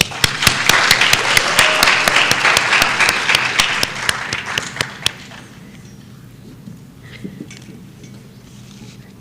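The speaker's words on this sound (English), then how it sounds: "Can we give them one more round of applause" A pageant audience applauds with dense, loud clapping that fades away after about five seconds, leaving a quieter room with scattered thumps.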